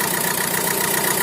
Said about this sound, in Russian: Завели двигатель. Двигатель работает нормально.